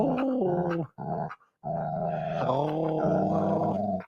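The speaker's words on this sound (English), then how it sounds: "He's just a puppy." A young puppy vocalizes in drawn-out, wavering growly whines and yowls, close and loud, with a brief break partway through and no talk over it.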